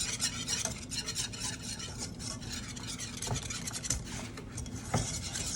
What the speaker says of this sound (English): And now I whisk.